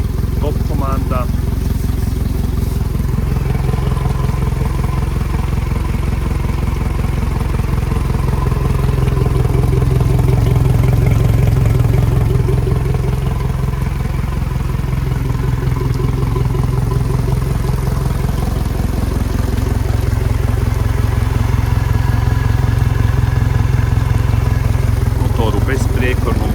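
A Suzuki DF 200 ATX outboard motor runs steadily on a diagnostic test with full rigging, a continuous mid-pitched engine drone that holds at a constant level throughout, close and loud, with no talk.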